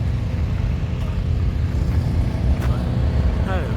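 An antique tractor engine running at a summer steam engine show and flea market, giving a continuous low rumbling drone close by, with a brief voice near the end.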